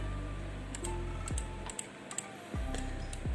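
Rapid typing on a computer keyboard, a run of quick, close key clicks with a few louder taps and brief pauses, heard alone without speech.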